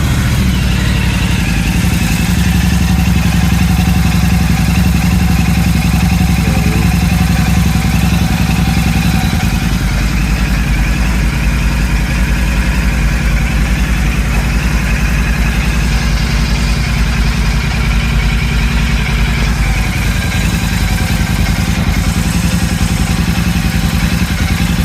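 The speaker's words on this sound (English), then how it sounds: "So let's start it up, leave the engine running for a bit and see what it does." A Royal Enfield Super Meteor 650 motorcycle fitted with a DNA air filter idles steadily and loudly close by, a low, even engine rumble with light mechanical clatter that runs without a break from start to finish.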